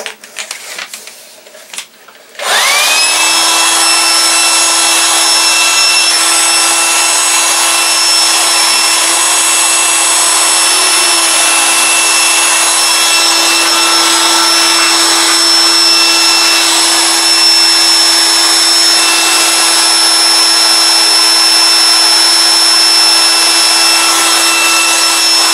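An electric blower starts up after a brief clatter and then runs loud and steady, blasting dust out of a DLP TV with a constant whine and sharp tonal hum close by.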